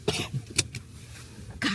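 A person coughs inside a car: a few short, rough coughs spaced through the moment, with a final burst near the end over quiet road rumble.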